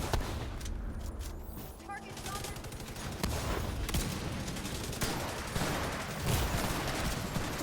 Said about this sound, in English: Put my TAC 50 on.